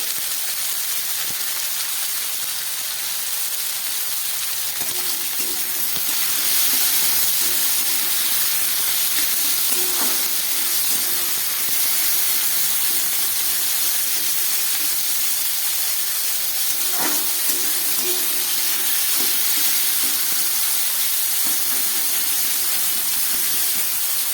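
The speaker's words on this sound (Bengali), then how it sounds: "আলুটাকে খুব ভালো করে আমি একটু ভেজে নেবো" Potatoes frying in a pan over low gas, a steady sizzling hiss of oil running throughout, close and fairly loud, with faint clinks and no talking.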